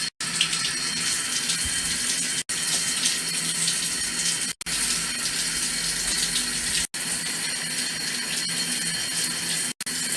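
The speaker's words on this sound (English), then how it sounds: "Pretty sure she likes the shower as much as I do." Shower water runs hard and constantly over a pet parrot, a loud close spray broken by a few brief sharp cutoffs.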